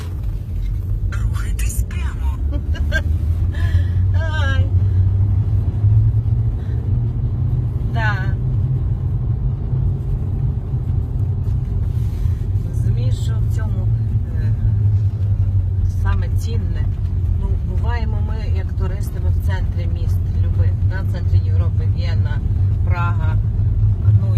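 A car rumbles steadily over a cobblestone road through a forest, a continuous low drone with rattling texture, while people talk over it throughout.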